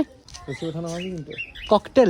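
A cockatiel at a zoo gives several shrill, warbling whistles and chirps close by, in short bursts with brief pauses.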